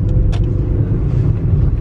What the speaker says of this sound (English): I think he will now go into this bus.